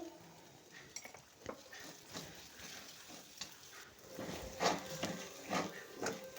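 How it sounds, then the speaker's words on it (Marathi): Sabudana khichdi with salt being stir-fried in a kadhai, giving a soft sizzle with faint scraping and clinks of a spatula against the pan, close and quiet, with a few louder scrapes toward the end. "परतून घ्यायचा आहे साबुदाणा मऊसूत."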